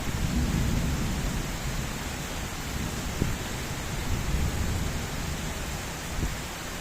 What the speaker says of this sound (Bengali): খুব সুন্দর বৃষ্টি পড়তেছে